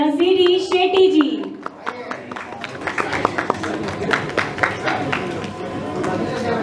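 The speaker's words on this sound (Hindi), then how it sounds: "जोरदार तालियां प्लीज।" Applause and clapping from the audience at the Bollywood Iconic Award 2025 ceremony, a steady crowd clatter that follows a host's voice in the opening seconds.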